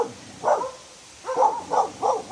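Dogs bark on a path to Bigaho Waterfalls near Port Barton, San Vicente, Palawan: one bark, a pause, then three quick barks at moderate distance with no talking.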